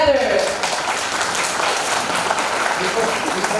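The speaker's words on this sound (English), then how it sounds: "Let's make it huge with a huge round of applause" A conference audience applauds at an inauguration, a dense steady wash of clapping that holds at an even level throughout, close and fairly loud.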